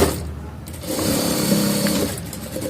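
A sewing machine stitches fabric for a shirt in a short, close burst of rapid mechanical whirring that starts after a quieter moment and runs steadily to the end.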